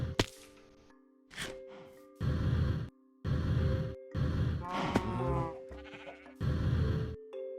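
Cartoonish bleating moos from video game cows come in repeated short bursts, several loud calls spaced through the stretch with brief gaps, close and clear with no talk over them.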